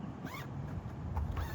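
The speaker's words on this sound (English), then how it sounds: "and re-zip to secure it" A zipper on a ROAM 8-foot awning's cover is pulled closed in a few short, rasping strokes outdoors, close and moderately loud, with no talking.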